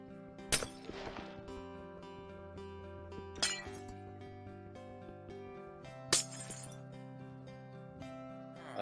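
Glass blocks break in the Minecraft survival game, three crisp shattering crashes spaced a few seconds apart over a steady tonal background track, with no speech.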